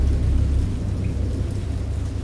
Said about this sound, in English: It is storming.